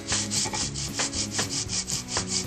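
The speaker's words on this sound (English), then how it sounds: "I'm even just going to go get a file and take that off." A hand file scraping across the cylinder head of a Honda XR80 engine during a rebuild, with about ten close, even back-and-forth rasping strokes in a steady rhythm and no voices.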